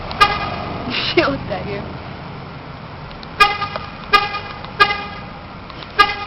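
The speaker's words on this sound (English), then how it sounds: "Georgia, would you stop pressing your panic button here?" A car's panic button sets off its horn in a series of short, sharp honks at irregular intervals, close by, while people talk over and between the blasts.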